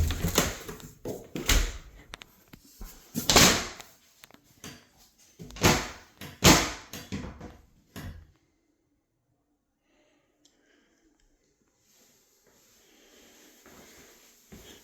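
An old-fashioned built-in ironing board in a half bath is pulled out, with a run of wooden knocks, scrapes and thuds that stop halfway, leaving near silence.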